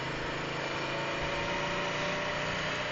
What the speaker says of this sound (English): Nah, you can't lug this bike now. Wants to rev.